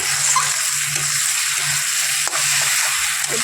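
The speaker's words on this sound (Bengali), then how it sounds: "চিকেনটা বসিয়ে দিলাম মশলাটা কষিয়ে নিচ্ছি" Chicken sizzles hard in spice masala in a wok, a dense, loud, continuous frying hiss close by with faint stirring scrapes and no talk.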